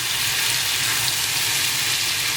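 Butter hitting a hot pan and sizzling, a loud, steady, spattering hiss that holds evenly from start to finish with no voices over it.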